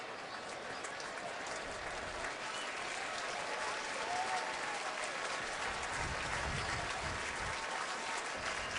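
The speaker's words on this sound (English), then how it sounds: "Nate hearing the applause from this crowd as he hobbles to the sideline." Stadium crowd at an NFL game between the Bengals and Titans applauds steadily as an injured player hobbles off the field, a broad, distant wash of clapping and crowd noise.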